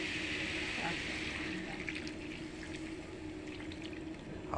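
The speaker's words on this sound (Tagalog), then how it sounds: "At lagyan natin ng isang tasang tubig." Water poured from a cup into a cooking pot on the stove, a steady liquid splash over constant kitchen background noise, continuing for several seconds.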